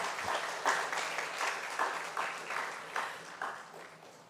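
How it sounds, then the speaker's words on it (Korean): Audience at a seminary ceremony clapping in rhythmic unison, about ten evenly spaced group claps roughly half a second apart, moderately loud in a room. "여러분 박수 한번 하겠습니다."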